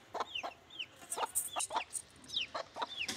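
Several chickens cluck and chirp in short, scattered bursts, fairly close and alone, with no one talking.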